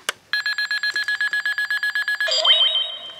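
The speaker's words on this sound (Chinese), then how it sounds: "好，生命值归0的音效。" Yu-Gi-Oh duel disk toy sounding as life points drop to zero: a quick train of sharp, evenly pulsed electronic beeps followed by a falling, swooping tone, loud and near, with no voices.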